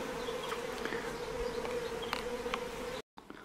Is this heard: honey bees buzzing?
yes